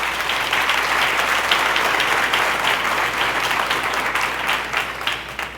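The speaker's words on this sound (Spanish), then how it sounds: "dele un fuerte aplauso al Señor." Loud, sustained applause from a church congregation, a thick crowd of clapping hands that stays steady throughout and tapers a little at the close.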